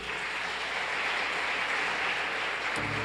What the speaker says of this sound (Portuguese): Dê mais um forte aplauso para Jesus.